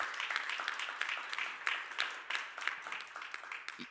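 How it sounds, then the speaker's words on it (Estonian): Audience applause at an award ceremony: faint, somewhat sparse clapping from a smallish crowd, continuing in uneven bursts without any voices over it. "üks suur aplaus kõigile 5 nominendile on väga,"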